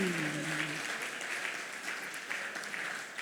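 Audience applause for a panelist at a national justice conference, a continuous wash of clapping from a seated crowd heard fairly softly, with a brief voice at the very start.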